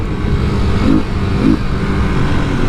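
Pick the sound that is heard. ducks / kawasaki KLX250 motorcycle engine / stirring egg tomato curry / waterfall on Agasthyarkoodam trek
kawasaki KLX250 motorcycle engine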